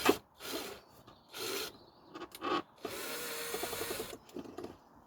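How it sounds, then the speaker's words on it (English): A screw turned by a screwdriver bores through the lid of a plastic soda bottle, giving bursts of close scraping and rubbing with short pauses between twists, and a longer grinding stretch near the end. "We can use a bradawl or a screw, but I've got a screw and I've got my screwdriver."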